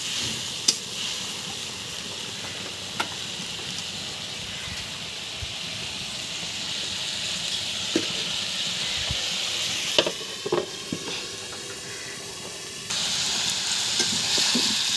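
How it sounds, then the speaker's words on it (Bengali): Spices frying in oil for a rohu fish curry with ash gourd give a continuous close hiss and sizzle, with scattered light stirring knocks and a brief louder burst of steam toward the end. "মশলাগুলো ভালোভাবে কষিয়ে তেল উঠিয়ে নেব।"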